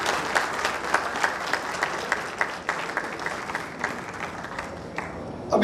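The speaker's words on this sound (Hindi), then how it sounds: "अगर आप जोरदार ताली बजाएंगे" An audience breaks into sustained applause for Naveen ji at a traders' gathering, a steady wash of many hands clapping at moderate distance with no speech over it.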